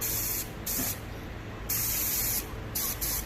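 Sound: pressure sprayer tank spraying air

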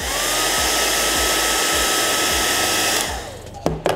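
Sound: hair dryer blowing

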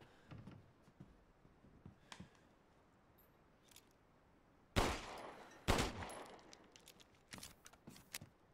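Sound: gunshots in the video game Resident Evil Village

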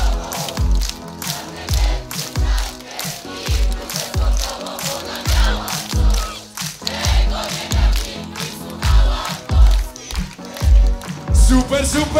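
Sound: concert crowd clapping hands overhead

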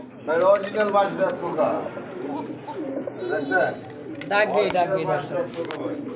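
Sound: racing pigeon cooing

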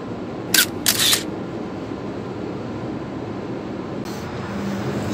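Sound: camera shutter clicking while taking photos

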